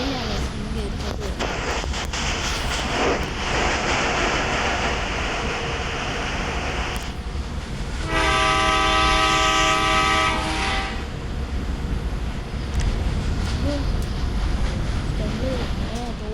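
A passenger train rumbles steadily along the rails while its horn sounds in a long, loud blast midway through, heard from close by with the clatter of the wagons continuing after the horn stops.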